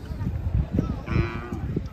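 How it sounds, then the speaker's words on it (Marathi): A racing bull at a bullock-cart race lets out a short low moo amid crowd murmur and outdoor bustle. "हे सगळे इकडे बैलच आहेत शर्यतीचे."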